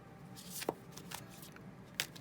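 Tarot cards are shuffled during a reading, giving soft papery riffles and a couple of sharper snaps, quiet and close.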